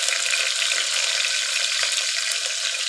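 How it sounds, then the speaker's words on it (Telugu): Cumin seeds, green chillies and curry leaves fry in hot oil for tomato rasam, giving a steady, close, even sizzle with no talking. "జీలకర్ర మంచిగానే వేగుతున్నది."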